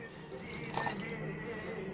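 Room-temperature water poured from a glass into a mixer jar holding cream, a continuous soft splashing and trickling, close and low, with a faint voice in the background.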